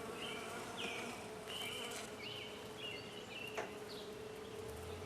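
A dense, steady buzzing of many honey bees at an evening hive, with individual bees droning past up close.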